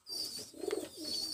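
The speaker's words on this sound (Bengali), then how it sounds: "খুব ভালো মানের গোল্ডেন কবুতর" Golden pigeons kept at home giving a short, soft coo that rises and swells briefly in the middle, fairly close with quiet background.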